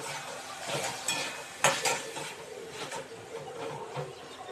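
Mustard paste being stirred into an okra curry in a pan, with a steady soft scraping and a low simmering sizzle, plus a few sharper clinks of the spoon against the pan near the middle.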